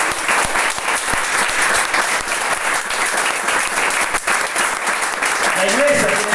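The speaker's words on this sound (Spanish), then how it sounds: "¿Cuánto le pueden dar un fuerte aplauso al Señor?" Loud, sustained applause from a church congregation fills the whole stretch, with a voice briefly rising above the clapping near the end.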